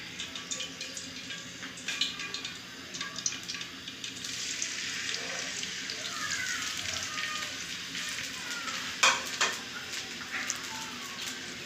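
Onions fry in a pot for chicken pulao, a steady close crackling sizzle with occasional stirring clicks and scrapes that swells gently over the course of the cooking.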